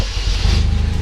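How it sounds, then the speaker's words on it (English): A turbo Mazda Protege engine that sat for a long time runs close and loud just after starting, a rough rhythmic clatter from the lifters under the engine's idle. "Oh, she's been sitting for a minute. Those lifters are clacking."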